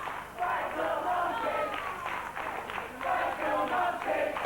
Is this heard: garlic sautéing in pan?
no